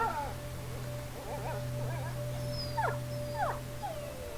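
A dog whimpers and whines in short rising yelps over a steady electronic hum in A Plague Tale: Innocence, fairly faint and repeated several times.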